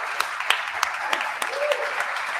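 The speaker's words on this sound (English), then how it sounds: "Let's give a big round of applause to Adam." Conference audience applause for speaker Adam Levine, a dense wash of clapping with distinct sharper claps popping through, and a voice briefly under it.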